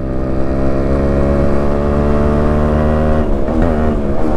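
A Yamaha RX135 motorcycle with an enlarged bore runs on the road during a mileage test ride, its engine a loud, close, steady drone that shifts in pitch near the end, with no talk.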